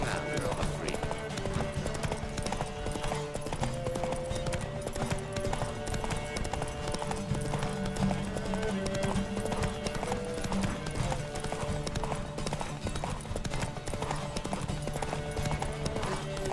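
A horse gallops with steady rapid hoofbeats during a horse race in The Witcher 3, continuous and close over a bed of game music.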